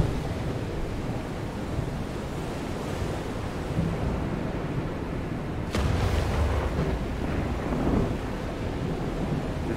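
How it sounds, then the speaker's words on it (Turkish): Steady broadband wind rushing in the seafaring game FAR: Changing Tides, loud and continuous with a brief gust swelling midway, no voices. "Rüzgarı tam tersten geldi"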